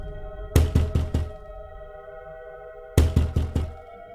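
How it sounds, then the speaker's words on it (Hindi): Knocking on a house door at night, heard as two separate bursts of four sharp, loud raps, with a steady tonal hum continuing underneath and no speech. "फिर वह उस घर का दरवाजा खटखटाती है।"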